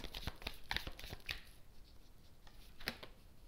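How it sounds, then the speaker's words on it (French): Tarot cards drawn and flipped from a deck, a few close, sharp papery snaps and slides in quick succession, then a pause and one last crisp card snap, quiet and without talk. "Je vais prendre 3 cartes."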